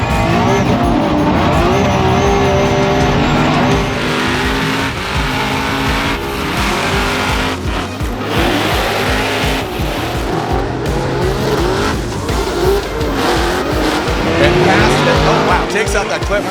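Formula Drift cars slide through a tandem battle, including the new Nismo Nissan Z, with loud continuous tire squeal, skidding and revving engines, close and sustained, while a commentator talks over the action.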